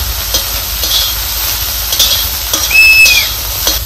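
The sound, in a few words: green chickpeas roasting in oil in a pan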